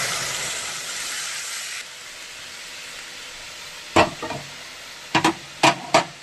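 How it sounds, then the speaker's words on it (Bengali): Dal poured into a hot pan gives a steady hiss of sizzling that fades after a couple of seconds, followed by a few sharp clinks and scrapes of a spoon stirring against the pan. "এবার আমি ডালটা ঢেলে দেবো।"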